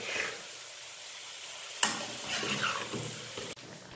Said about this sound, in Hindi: इसको 5 मिनट्स के लिए दरमियानी आंच पे भूनेंगे